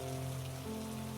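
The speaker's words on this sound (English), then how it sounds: "surrounded by vibrant greenery and the sound of rain" Rain patters steadily on a surface in London, a dense, even wash of drops with faint low hum underneath and no speech.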